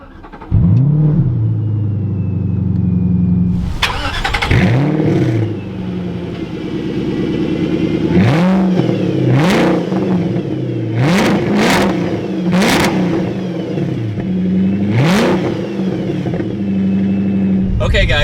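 A 2005 Ford GT starts up loud and close, then settles into a deep idle broken by a series of sharp revs that rise and fall every second or two, with a voice talking over the engine at times.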